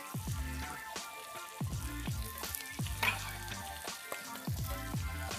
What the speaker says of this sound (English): We're gonna go ahead and just start adding red chili flakes and then the peppers